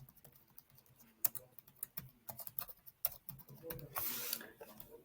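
Close, quiet typing on a computer keyboard, an irregular run of light key clicks ending in a brief quick burst of keystrokes.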